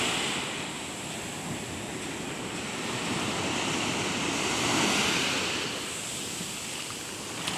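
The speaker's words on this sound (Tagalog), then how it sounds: "Lumalakas yung alon guys, oh." Ocean waves near a grounded ship keep surging as the sea builds, a dense continuous roar of surf and wind that swells gently and then eases, with no voices over it.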